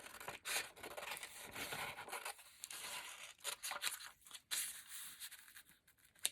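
Paper being cut by hand for a travel folio, a close series of dry scissor snips and scraping rubs with brief pauses, fairly loud and with no voices.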